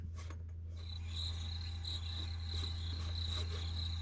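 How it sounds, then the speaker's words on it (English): A cricket-chirping sound effect plays alone, a steady series of rapid high chirps pulsing in a regular rhythm over a faint low hum, fairly quiet and close. "Why do you play that cricket sound?"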